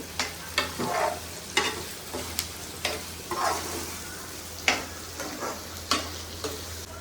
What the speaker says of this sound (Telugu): ఒక్క నిమిషం ఫ్రై అవనిద్దాము, అంటే అల్లం పేస్ట్ ఇప్పుడే వేసాం కాబట్టి